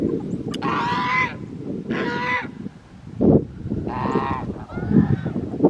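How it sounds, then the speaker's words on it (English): Several farmyard geese honk loudly in repeated bursts, harsh nasal calls coming close together with short gaps, a few ducks kept alongside them, with no talk over the calls. "got some noisy geese and a few ducks"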